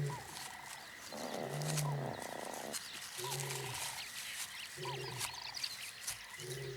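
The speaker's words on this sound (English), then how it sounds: "The lioness hears his call from a distance and heads towards it." A male lion calls in the distance in the African wild, a series of deep, repeated roaring grunts in a rough rhythm, each followed by brief pauses, set against outdoor ambient noise.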